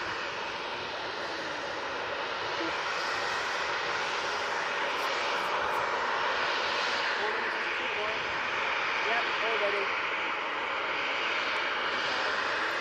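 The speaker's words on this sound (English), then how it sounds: "Next in, we have the RyanAir coming in from Copenhagen using the 737-800" A Ryanair Boeing 737-800 arriving at Manchester Airport from Copenhagen, a steady jet engine roar sustained at moderate loudness throughout, slightly swelling midway.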